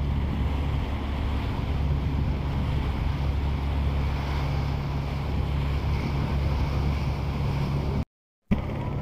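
A fishing boat working on the Meghna river in Bangladesh, with nets rigged between two bamboo poles; steady wind and lapping water make a constant broad rush that cuts out briefly near the end.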